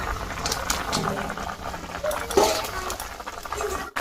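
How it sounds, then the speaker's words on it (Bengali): A fish curry bubbles and simmers in a pot on a kitchen stove, a soft irregular patter of bubbles heard up close alongside occasional clinks of utensils and pans. "এদিকে আমার তরকারিটা ফুটছে"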